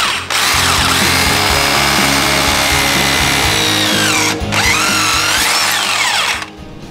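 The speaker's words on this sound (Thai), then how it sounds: "เดี๋ยวผมก็จะเจาะรูนะครับตามเพลทตรงนี้เลย" A power drill whines loudly and continuously into a concrete floor, pausing briefly midway before resuming, then winding down near the end.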